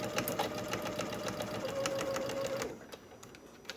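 A sewing machine stitches quilting cotton for a small tote bag, running in a fast, even whir for over two seconds, then stopping for a few faint clicks and taps.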